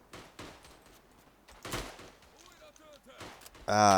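Gunfire in the WWI shooter Tannenberg: scattered rifle shots crack across the battlefield, some distant and some near, ending in a loud close burst, with someone speaking briefly between them.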